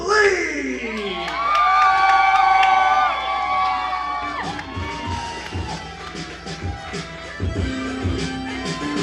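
A wrestling crowd in Miami cheers and whoops loudly for a wrestler's entrance, with high shouts and whistles that fade into scattered calls and claps.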